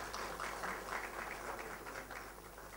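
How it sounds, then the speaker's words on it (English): A conference audience claps for a speaker with sustained, moderately faint applause from many hands, steady throughout with no voices on top. "round of applause for Kedar Phadke, the speaker of the morning"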